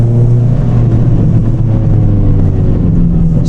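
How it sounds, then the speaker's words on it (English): Modified Ford Fiesta ST Mk6 heard from inside the car, a loud steady engine drone with exhaust rumble and low burbling pops on the overrun, no talking. "It's got a few little burbles on the overrun as well,"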